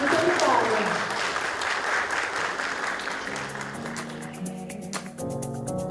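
Audience applause at a lecture for building managers fills the space as a steady, dense wash of many clapping hands, with a voice speaking over it near the end.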